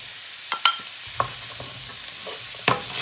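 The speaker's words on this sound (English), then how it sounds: "Mix all of those together." Carrots, green beans and peppers are stirred together in a pan for vegetable rice, with a soft continuous sizzle broken by a few sharp clinks and scrapes of the utensil against the pan, close by and without talk.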